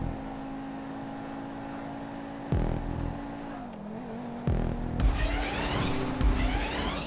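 A Felon GT sports car in a GTA racing game drones with a steady engine tone, broken by two sharp jolts and a burst of revving and scraping noise near the end.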